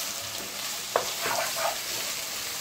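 Beef for shawarma sizzles steadily in a hot pan, a dense broadband hiss with a few brief stirring scrapes and spatters close by, no voices.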